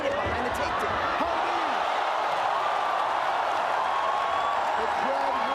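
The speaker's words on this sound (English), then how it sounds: "The crowd roars again as Belingon came close to the punch." A large crowd at an MMA bout roars in a loud, continuous wash of cheering that holds steady throughout, with a commentator's voice faintly underneath.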